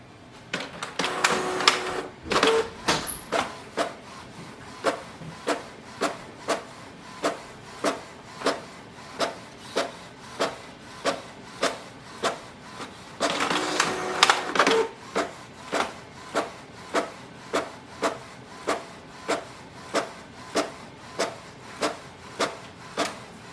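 A Canon Pixma TS7720 inkjet printer runs through pages: a regular series of sharp mechanical clicks and whirring passes, with two longer grinding feed bursts along the way.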